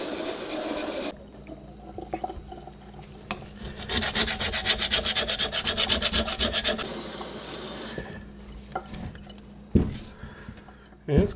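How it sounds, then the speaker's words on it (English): Hand scrubbing of an old item being restored, a steady rough rubbing with a fast back-and-forth rhythm that grows loudest midway, close up, with short pauses and a few knocks near the end. "Let's see what it looks like with a little bit of scrubbing."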